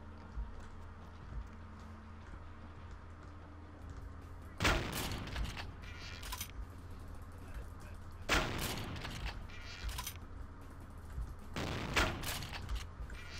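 Three sharp crossbow shots snap at spaced intervals, each followed by a brief clatter, against a quiet low hum in the video game Vampire The Masquerade Bloodlines.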